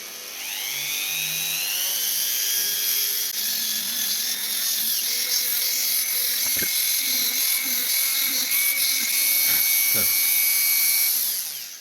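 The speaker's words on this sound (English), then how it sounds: "moving over to a very fine Dremel piece" A high-pitched Dremel rotary tool with a very fine bit whines continuously while drilling a model crab, close and steady, with small shifts in pitch as it cuts.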